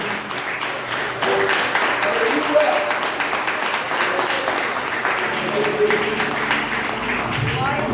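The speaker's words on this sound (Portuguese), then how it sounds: "Aplaude Jesus pelo que ele fez." A church congregation applauds during a service, a continuous wash of clapping with shouting voices and speech layered through it, steady and moderately loud from start to end.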